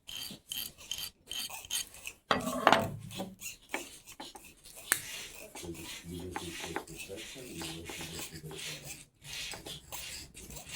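Metal file rasping over a trimmed rivet during a stem class, close and uneven strokes with scraping bursts and pauses, while people talk at times.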